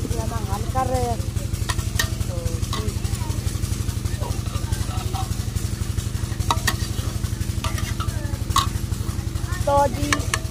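A spoon stirs a pot of curry cooking in a village kitchen, with soft scraping and light clinks over a quiet sizzle and a steady low mechanical hum throughout.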